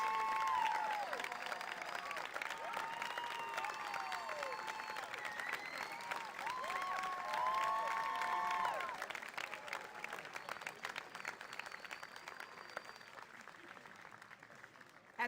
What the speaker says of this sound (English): Can we all get a rousing round of applause to say congratulations to our newest graduates?